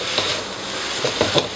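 Indomie goreng instant noodles are stirred while frying in a pan, a steady sizzle broken by a few soft scrapes and clinks of the utensil, close and without speech.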